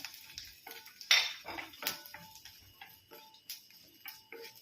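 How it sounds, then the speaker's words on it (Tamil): Cumin seeds splutter in a small amount of hot oil for kovakkai (ivy gourd) roast, giving faint, scattered crackles and sharp little pops at irregular intervals, with occasional light clinks. "ஜீரகம் நல்லா பொரிஞ்ச உடனே"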